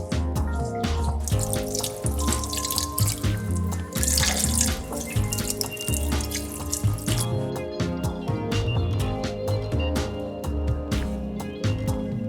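Beef broth poured into a cooking pot, a steady liquid splashing and trickling stream with small drips, close and continuous throughout.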